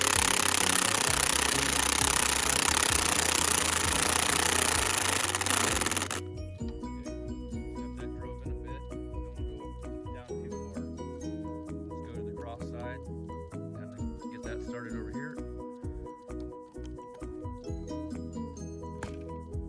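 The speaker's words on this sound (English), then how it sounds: "let's go ahead and get these bolts drove down into the log" Bolts being driven down into a log to mount an outdoor anvil: a loud, dense burst of rapid hammering for about six seconds, then quieter scattered knocks and clatter close by.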